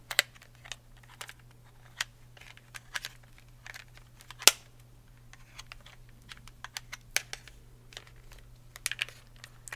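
Plastic wrapping is peeled off a wired Nintendo GameCube controller, giving sparse, quiet crackles and sharp ticks with short pauses between them, close and alone without talk.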